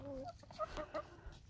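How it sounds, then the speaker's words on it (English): Chickens cluck softly nearby in a quiet outdoor yard, a few short rising calls over about a second and a half, faint and alone without talk. "I have freaking chickens."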